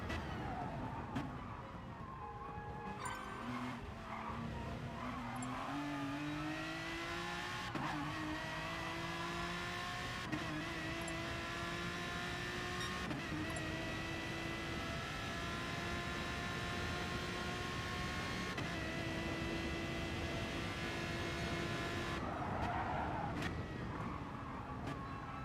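Race car engines in the driving game GT Sport rev hard, rising through the gears with repeated climbing whines and shift breaks, loud and continuous throughout.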